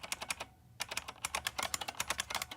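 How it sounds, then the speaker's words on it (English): Fingers type on an IBM PC XT buckling spring keyboard, a quick run of crisp clicky keystrokes up close with one brief pause, quiet overall and with no talking. "This is a very quiet buckling spring keyboard."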